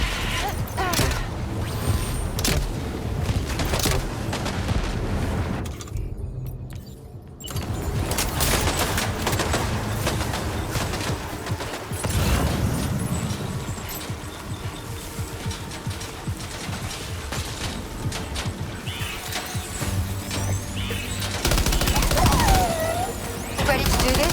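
Gunfire rattles in Death Stranding 2, long loud bursts of rapid automatic shots with mechanical clatter, one brief pause early on, then more sustained firing under occasional voices.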